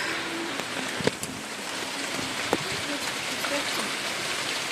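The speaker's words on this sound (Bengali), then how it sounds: "আর বাইরে দেখো কি বৃষ্টি নেমেছে" Rain falls outside a house in a steady, even hiss heard from indoors, with a few faint knocks and distant sounds mixed in.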